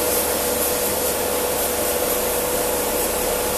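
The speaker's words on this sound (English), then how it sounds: "So here we are airbrushing the Brass Scorpion." An airbrush lays base coat on a brass Warhammer 40K Forge World Scorpion model inside a spray booth with LED light, giving a steady, close hiss of air and spray with no pauses.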